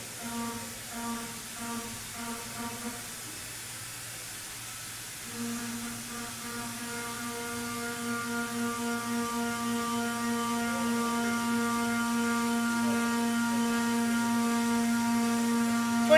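A Tungaloy high feed milling cutter with a 16 mm body and six-edged inserts cuts metal on a BT40 spindle, producing a steady tonal machining hum that drops briefly, then returns and grows gradually louder and fuller.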